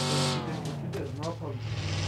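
Engine of an open-top Jeep in PUBG on the Miramar map, a loud, steady drone that holds throughout, with people talking over it.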